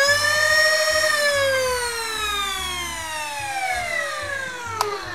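Phase One foam blaster's flywheel motors give off a loud, steady electric whine that slowly winds down in pitch, with a series of stepped low electronic tones underneath and a brief click near the end.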